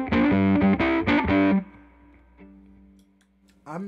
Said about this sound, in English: If I turn the distortion all the way down and keep the volume at about unity